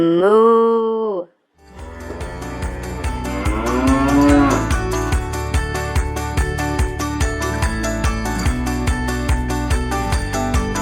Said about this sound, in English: What sound does the cow make?